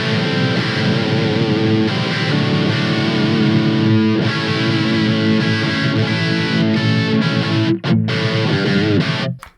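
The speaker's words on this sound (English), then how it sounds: "here's what she sounds like straight bridge humbucker." Ibanez DG555 Destroyer electric guitar on its bridge humbucker with distortion, a loud, dense run of chords and riffing held continuously, a couple of short choked breaks near the end before it stops.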